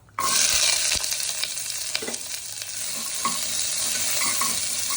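Shallots and cumin sizzling and stir-frying in sesame oil in a cooker, a steady loud frying hiss with scraping stirs throughout.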